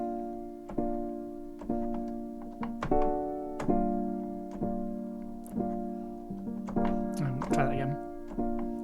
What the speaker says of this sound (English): It's a little gospel piano trick.